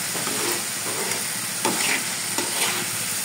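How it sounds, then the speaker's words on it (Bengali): Shrimp frying with cooked-down spice paste in a pan give a dense, continuous sizzle with scraping stirs and a few louder bursts, close up and with no voices. "এখন চিংড়ি মাছটা দিয়ে আবার একটু কষিয়ে নিচ্ছি"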